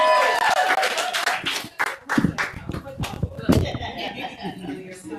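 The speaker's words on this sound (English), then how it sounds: "Give me a round of applause tonight." A comedy club audience claps and cheers in a loud, close burst of applause mixed with laughter, the clapping thinning out into scattered claps as a voice talks over it.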